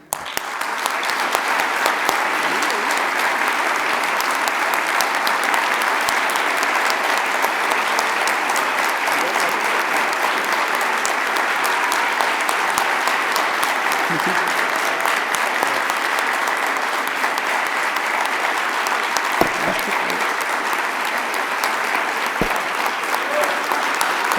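Sustained, dense applause from a large audience fills the hall at the inauguration of an international distance-education conference, steady and loud throughout with no break.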